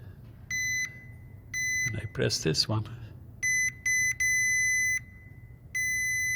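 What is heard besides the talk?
continuity tester buzzer beeping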